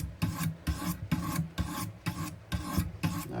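A knife blade scrubbed on Wicked Edge sharpening stones, giving about eight quick rhythmic rasping strokes, close and dry, with short pauses between them and no talking.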